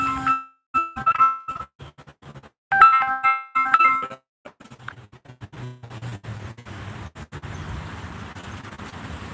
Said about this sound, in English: Sorry, y'all, I got a phone call.